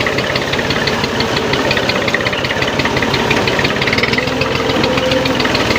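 A tractor engine runs close and loud with a steady, knocking idle throb that continues without a break and with no voices.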